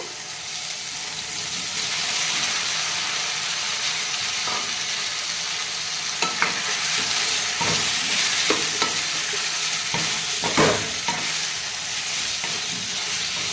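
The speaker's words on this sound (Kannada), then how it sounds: "ಇವಾಗ ಕಟ್ ಮಾಡಿ ಇಟ್ಟಿರುವಂತಹ ಬದನೆಕಾಯನ್ನು ಹಾಕಿ ಎಣ್ಣೆಯಲ್ಲಿ ಚೆನ್ನಾಗಿ ಫ್ರೈ ಮಾಡ್ಕೋಬೇಕು" Chopped brinjal fries in hot oil with a steady, close sizzle, and a few sharp pops and crackles come through near the end.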